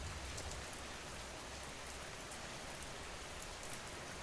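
Steady rain falls in a dense, even hiss of drops, constant and unbroken, with no voices.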